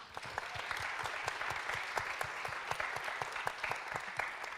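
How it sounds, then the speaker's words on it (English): An audience of people from across North Carolina applauds themselves at an economic forum, steady dense clapping with scattered sharper claps, moderately distant and sustained throughout. "You should give yourselves a round of applause."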